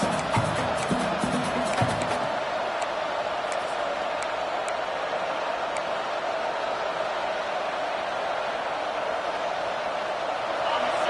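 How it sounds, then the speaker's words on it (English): A stadium crowd in the NCAA Football 26 video game roars as a steady, dense wash of noise, with a commentator talking over it throughout. "The roar of the crowd trying to fuel this defense to keep them pinned in their own end"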